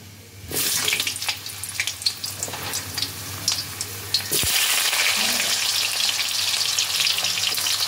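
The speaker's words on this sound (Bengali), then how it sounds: "আলুগুলোকে তেলের মধ্যে দিয়ে 2-3 মিনিট আমি এটাকে ফ্রাই করে নেব" Potatoes dropped into hot oil in a pan burst into loud, crackling sizzling that settles into a steady, dense fry with occasional stirring scrapes.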